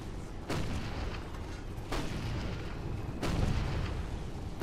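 Howitzer artillery in the Toy Soldiers war game booms three times at roughly even intervals, each a heavy, sharp blast over a constant loud rumble of battle.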